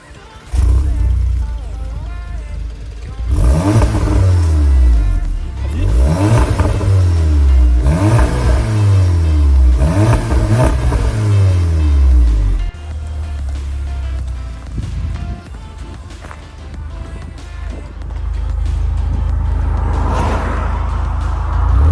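Golf 7 GTI with 220 horsepower and a custom exhaust line starts and revs loudly, several sharp rising-and-falling revs in a row, then settles to a steady rumble with voices talking nearby.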